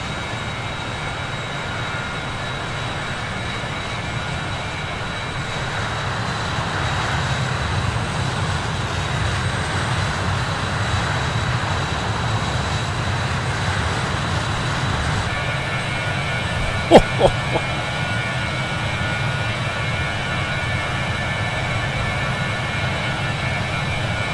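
Steady jet engine roar from an Aer Lingus RJ85 airliner in Microsoft Flight Simulator 2020, a constant loud broadband drone with a high whine, continuous and alone with a brief click near the end.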